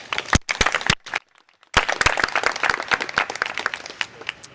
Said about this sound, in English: I'd like those of you who are here to clap really loudly for our first guest